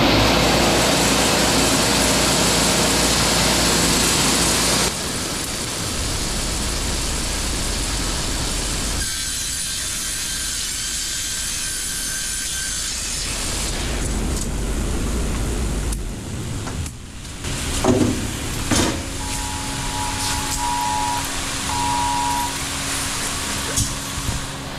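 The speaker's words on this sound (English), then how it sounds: "It's gonna get loud, I gotta turn all the blowers on to run it." Wood-Mizer EG100 edger running at a sawmill with its blowers on, a loud continuous industrial roar and whine whose tone shifts several times as machines change, with clanks late on.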